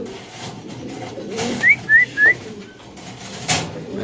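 Birds at a pigeon market give three short, rising whistled chirps in quick succession near the middle, set against a steady bed of crowd and market background noise.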